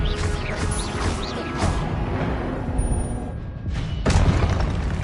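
Expelliarmus disarming spell cast in Hogwarts Legacy, loud booming magical blasts and crashing impacts over dense continuous combat noise, with a heavier burst near the end.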